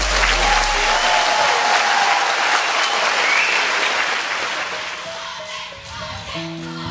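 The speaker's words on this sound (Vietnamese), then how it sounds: "Một tràng vỗ tay thật lớn lên đi ạ!" A large crowd at a countryside wedding applauding loudly and continuously, gradually thinning out toward the end.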